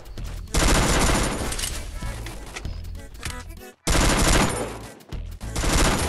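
Rapid bursts of Free Fire video game gunfire, loud and dense, with a brief pause midway before the shooting resumes.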